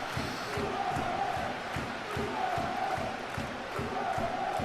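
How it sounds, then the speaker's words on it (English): A stadium crowd in the football video game PES 2014 roars and chants in rhythmic, pulsing swells, a dense, continuous wash of cheering heard at a distance. "More encouragement. Lifted the crowd, that's for sure."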